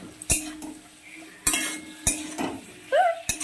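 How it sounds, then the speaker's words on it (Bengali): A spoon stirs greens (stalks) in a cooking pot on low heat, with several sharp scraping knocks against the metal pot and a faint sizzle underneath. "এবার একটু নাড়িয়ে চাড়িয়ে নিলাম"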